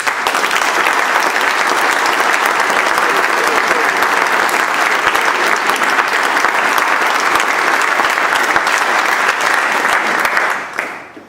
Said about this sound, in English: we need to give them a huge round of applause